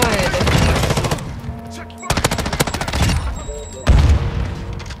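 Automatic M13b rifle fire in a first-person shooter game, loud bursts of rapid shots with short pauses between, punctuated by a heavier boom near the end, with faint game effects underneath.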